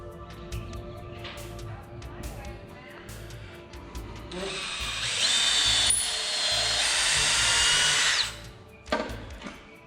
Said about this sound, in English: Use the table saw and rip some.